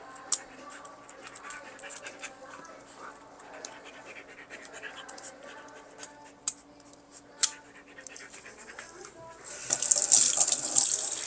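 Tap water runs into a kitchen sink while dishes are washed, a steady splashing hiss with scattered clinks and scrapes that swells into a louder gush near the end, with a dog panting nearby.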